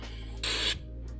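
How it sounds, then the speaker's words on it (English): Aerosol contact cleaner sprays in one steady hiss lasting about a third of a second onto corroded electrical connectors on a Range Rover Sport, close and loud over a low hum, then stops. "Spraying contact cleaner just to get some of the corrosion."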